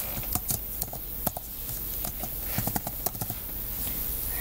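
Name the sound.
typing a password on a computer keyboard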